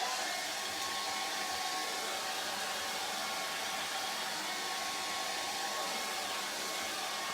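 An ordinary hair dryer blows steadily over a soft pastel painting, a constant, close, loud whooshing hiss with a faint motor hum that runs unchanged throughout.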